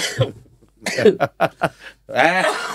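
A few sharp coughs in a quick burst, close to the microphone, followed by a brief throat-clearing sound.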